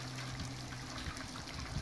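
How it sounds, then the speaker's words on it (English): Hot beer wort pours into a fermenter in a continuous trickling stream, steady and close, with a low electrical hum beneath and no talking. "Now I'm transferring the hot wort into the fermenter"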